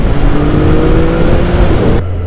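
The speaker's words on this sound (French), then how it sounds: "plus le pot d'échappement chante correctement" A motorcycle exhaust roars loud and steady close by with a rising rev, then drops suddenly to a low idle rumble at the end.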